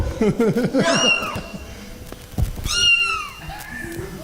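Someone imitates a cat's meow, producing a few drawn-out, wavering meows with a short pause between them.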